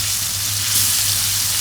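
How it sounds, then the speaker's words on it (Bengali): Fresh fish sizzles in hot oil in a pan, a steady, close, dense hiss of frying with no talk over it. "তো আমি ভাবলাম একটু ভেজে দিই মাছটা"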